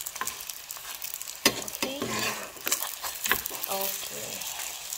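Beef murtabak sizzling and frying in a pan, a steady bright crackle of hot oil with occasional scraping and stirring knocks from a utensil, close up.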